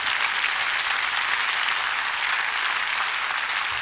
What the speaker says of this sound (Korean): 우리 하나님께 감사의 영광의 박수를 올려드리기를 원합니다.